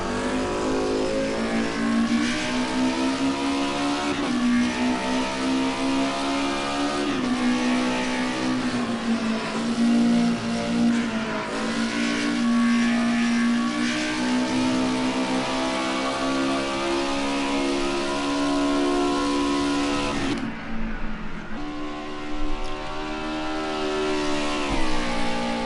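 Group A touring cars race at Sonoma, engines revving hard and accelerating in a steady loud drone with rising and falling pitch as gears change, a brief dip as a car lifts off, then the roar resumes.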